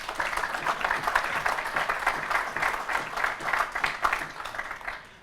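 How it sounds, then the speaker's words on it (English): Steady audience applause with a dense patter of many hands clapping, continuing evenly throughout. "I think we can clap."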